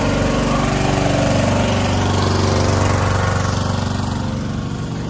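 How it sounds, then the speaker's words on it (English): A generator runs steadily and loudly nearby at a restaurant in Tbilisi, Georgia, a constant droning engine hum with no pauses. "so of course there's a generator"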